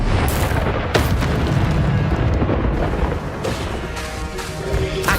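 A fire spell cast in the Hogwarts Legacy video game, a loud continuous booming rush of flame and blast with sharp bursts, dense and steady throughout amid other in-game effects.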